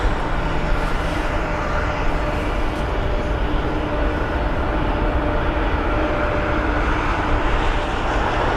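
A United Boeing 767-300ER taxiing at Heathrow, heard as a steady, broad engine roar that holds at an even level throughout with no clear rise or fade.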